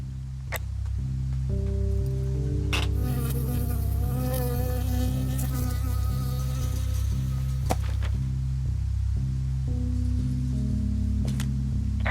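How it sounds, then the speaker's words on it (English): A bee buzzes close by in Firewatch, a wildlands video game, its whirring drone wavering in pitch over steady low ambient music with a few sharp clicks. "I got stung by a bee."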